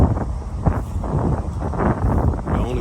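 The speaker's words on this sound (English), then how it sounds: "Look at that wind." Strong wind roars steadily at an RV campground site, a loud, continuous buffeting gust noise filling the whole moment with no voices.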